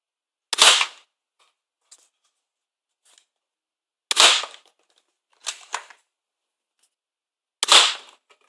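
Nerf Star Lord Quad Blaster fired from its bottom barrel gives four sharp, snappy pops spread over several seconds, the second and fourth shots crisp and alone, with one quicker doubled burst between them and faint clicks in the gaps.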